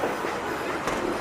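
Long-distance passenger train at Bandung station, a steady broadband rumble of rolling cars with a brief sharper rattle near the end, heard close and continuous without talk.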